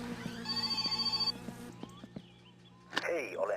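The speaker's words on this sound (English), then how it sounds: "Oh no, we're getting a phone call." Telephone ringing inside the game My Summer Car, a repeated electronic trill of about eight quick pulses, fairly loud, followed by a few knocks and then a voice speaking.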